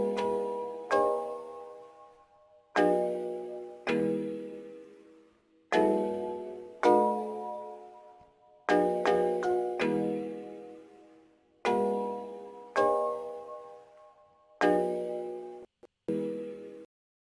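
Layered bell instruments play alone in a music track, bright struck tones ringing out and decaying in a slow, irregular rhythm of repeated hits, clean and close with no voices.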